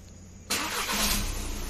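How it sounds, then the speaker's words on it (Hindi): A Volkswagen car's engine turns over and catches after an ABS module replacement, a sudden start about half a second in, settling into a steady idle up close. "चालू कर गाड़ी"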